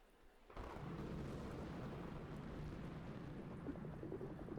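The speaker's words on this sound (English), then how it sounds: "the storm is almost here" Approaching thunderstorm: a sudden swell of low, rumbling roar rises and holds as a broad, continuous wash of thunder and rain-like noise, loud and enveloping.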